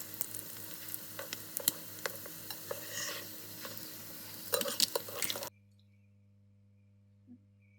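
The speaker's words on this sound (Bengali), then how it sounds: "এই যে আমি এখন আর একটা পাশ ভেজে নিচ্ছি।" Flatbread made from wheat flour fries in a little oil on its second side with a steady close sizzle and a few light scraping clicks. After about five seconds the sizzle cuts off into near silence, broken by one faint tap.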